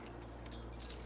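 A short bright jangle of keys in the video game Dead Rising 4, a quick metallic clink over a low steady game hum.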